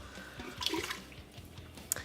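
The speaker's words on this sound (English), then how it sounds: "add 1 cup of water into the bottom of our Instant Pot" Quiet water poured into the bottom of an Instant Pot before cooking, a soft, brief trickle with a few small splashes, no talking.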